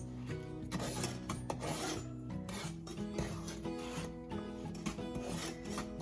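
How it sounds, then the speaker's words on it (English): A no-bake cookie mixture is stirred steadily in a pot, giving a continuous scraping and rubbing sound that runs the whole time beneath a background of sustained tones. "I always just constantly stir it. I never stop stirring it."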